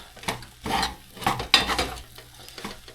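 Noodles tossed with sesame oil in a pan, giving repeated close scraping and stirring strokes with a light sizzle underneath, in uneven bursts over a few seconds.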